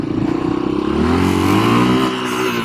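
A 1986 Yamaha XT350 dual-sport motorcycle engine revs up from a throbbing idle into a rising, steady roar, loud and close, with no talk.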